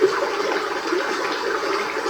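A sound machine plays a flowing stream track: steady, even watery rush with a soft trickling texture, continuous and moderately loud, with no voices.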